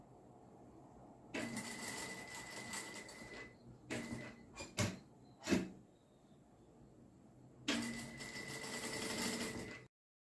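A sewing machine stitching around a piece of fabric, starting with a backstitch: short bursts of fast, buzzing stitching separated by pauses and a few quick taps, then a longer final run that cuts off.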